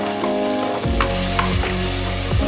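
Tomatoes cook in a pan for country chicken curry, a dense close sizzle with a low steady hum beneath and a few scraping stir strokes breaking through.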